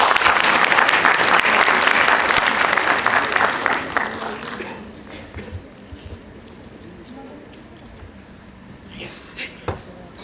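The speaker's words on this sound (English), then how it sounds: "May we have a huge round of applause?" An audience at a legal counselling competition gives a loud burst of applause that lasts about four seconds and fades into scattered claps and room noise, with a voice briefly heard.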